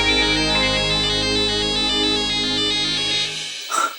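A phone ringtone plays loud and close as a sustained tonal melody for about three and a half seconds, then cuts off abruptly, followed by a brief soft rustle.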